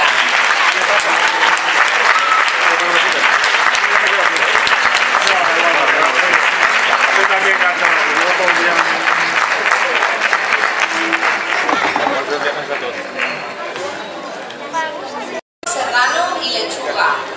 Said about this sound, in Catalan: Despedim amb un fort aplaudiment a la Falla